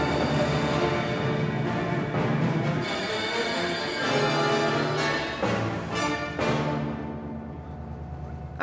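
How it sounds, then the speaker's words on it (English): A train heading north toward the Arctic Circle, its loud rumbling clatter along the rails close and continuous, with rhythmic knocks and a fade near the end. "I could just clatter across the Arctic Circle on the train."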